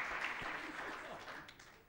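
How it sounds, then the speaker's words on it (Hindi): Audience applause at an Odissi classical dance performance, a brief, faint patter of scattered clapping heard from a distance. "एक ताली उनको भी"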